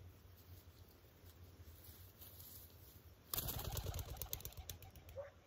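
A bird, likely a pigeon, bursts into flight with a loud flurry of rapid wingbeats close by, following several seconds of quiet background hum.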